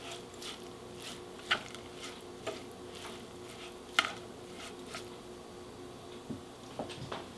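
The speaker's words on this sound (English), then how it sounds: "I'm going to give this a stir." Seasoned ground beef is stirred in a pan for keto taco casserole, with a steady low sizzle and a few sharp scrapes and clinks of the utensil against the pan spaced through the stir.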